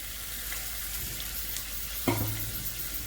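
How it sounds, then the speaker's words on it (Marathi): Chopped onion and green chilli frying in hot oil give a steady, even sizzle, with one sharper clink near the end as something knocks the pan. "मी आता कांदा टाकलेला आहे, आता हिरवी मिरची टाकते।"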